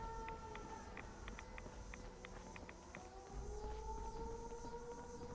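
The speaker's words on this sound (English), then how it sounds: "Why is the siren" A steady electronic siren tone drones through a noisy scene in the video game Fallout 76, with a second rising wail joining midway, set against rumbling background and scattered clicks.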